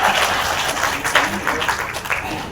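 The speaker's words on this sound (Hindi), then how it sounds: "ताली बजा।" An audience at a poetry gathering in Indore claps after a poem, loud and close, with the clapping swelling and fading and faint voices mixed in.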